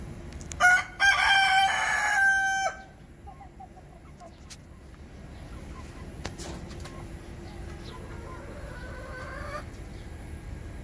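A rooster crows loudly and close at a small backyard chicken coop on Daru Island, Papua New Guinea. Quieter outdoor ambience follows, with faint hen clucks toward the end.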